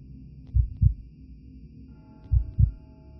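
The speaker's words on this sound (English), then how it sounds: "I like how it's going to the heartbeat." Heartbeat in the horror video game RHOME: two deep lub-dub thumps pulse slowly against a low droning hum, clear and close, with no voices.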